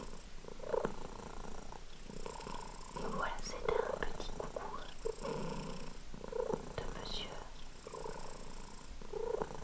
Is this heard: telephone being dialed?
no